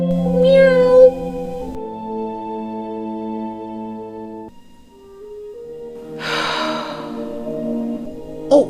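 Several loud, close cat meows with long tonal wails and a breathy, snorting burst in between, no talking.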